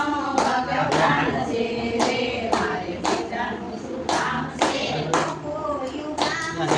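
A group of people clapping hands, loud uneven bursts of claps repeating through the stretch with a few voices talking faintly underneath.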